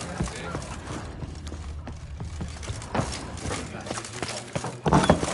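Steady clip-clop of hooves trotting at a regular pace in The Witcher 3: Blood and Wine, with voices and game ambience mixed underneath.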